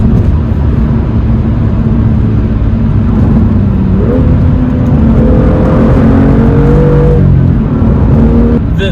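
A manual BMW M2 with the N55 engine revving hard, loud and close, the engine note rising in pitch through the middle and then easing back, with no voices.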